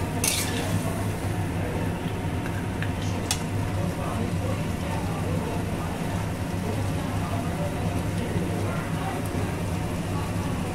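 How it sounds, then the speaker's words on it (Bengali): Free-range chicken curry stir-fried in a pan, a steady broad sizzle and scrape of stirring that holds level throughout, with a few brief metallic clinks near the start. "এবার খুব ভালো করে কষিয়ে নেব।"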